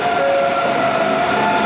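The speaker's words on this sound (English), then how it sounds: "I'm gonna get the train to Barcelona" Train at a station in Spain bound for Barcelona gives off a steady, loud rumble with a sustained tonal whine, continuous throughout with no voices.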